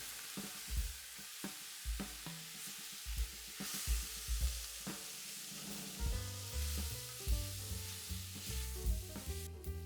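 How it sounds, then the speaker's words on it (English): Ouzo hits a hot pan of spiced vegan shrimp saganaki, sparking a broad sizzle as a spoon stirs and taps through it, with near, repeated scraping clicks and no talking. "we're deglazing the pan with a half a shot of ouzo"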